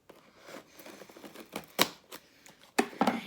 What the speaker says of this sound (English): We're going to cut right into this box.